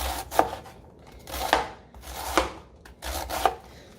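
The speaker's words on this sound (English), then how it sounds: "And then I start to slice it up" A knife slices through cabbage for a Ghanaian three-vegetable stew, giving four crisp chopping strokes spaced about a second apart, each with a short crunchy rasp, close and fairly loud with no talking.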